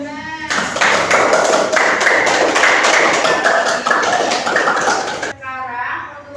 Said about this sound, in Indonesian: tepuk tangan dulu untuk Kak Damar